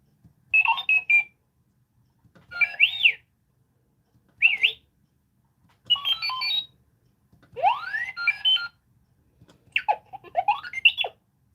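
Six short bursts of chirpy electronic beeps and warbling tones from a toy robot, each separated by a pause, fairly loud with near silence in between.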